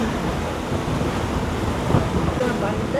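Boat far out at sea off Sri Lanka, with steady rushing waves and buffeting wind noise filling the whole stretch at a constant loud level.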